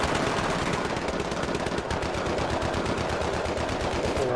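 Sustained rapid automatic gunfire in Battlefield 3, dense, loud and continuous bursts throughout with no talking.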